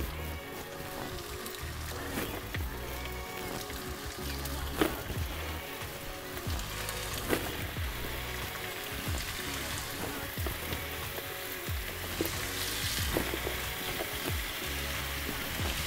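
Shrimp sautéing in a hot pan with a dense, steady sizzle and crackle that carries through the whole stretch, punctuated by a few sharper pops and clatters, with light talk now and then.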